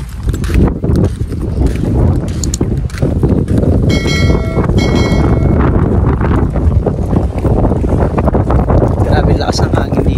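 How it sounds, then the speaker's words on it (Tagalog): Strong wind on a beach by a sandbar at a resort in Calatagan, Batangas, buffets the microphone with a loud, continuous low roar and gusty rumble. "Lakas ng hangin dito."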